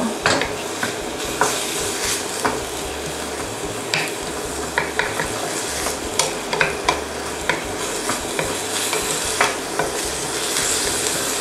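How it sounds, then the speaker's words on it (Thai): Curry sauce ingredients, meat-free, are stir-fried in a pan with a steady sizzle and frequent scraping and clinking of a spatula against the metal, close and continuous with no talking. "นี่ก็ผัดให้หอมสุกนะคะ"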